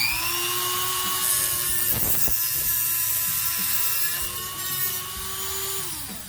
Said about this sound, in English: I'm going to go ahead and use my Dremel for that